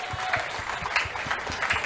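Crowd at an outdoor public political rally in a Delhi market claps vigorously, a brief burst of steady rhythmic applause with rowdy crowd noise behind it.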